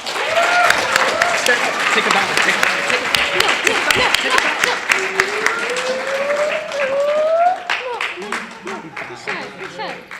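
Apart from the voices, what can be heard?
applause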